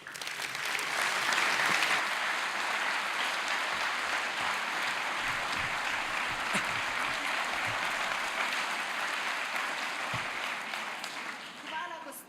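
Sustained applause from a ceremony audience for a deputy mayor, dense and steady clapping that holds loud throughout before easing slightly at the end.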